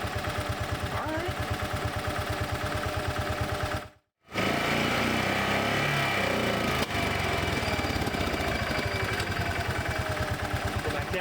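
A Bobcat Pioneer (Club Car Carryall) utility vehicle engine idles with a steady, loud rhythmic chug, briefly cutting out for a moment before resuming its even putter.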